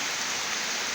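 Heavy rain falling after a long dry spell makes a dense, steady hiss, loud and unbroken throughout.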